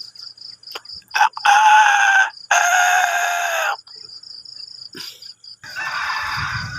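A labuyo (red junglefowl) rooster crows back from close range beside a highway, several loud drawn-out crows trading with a person imitating the call, while insects chirp steadily and a vehicle rumbles past near the end.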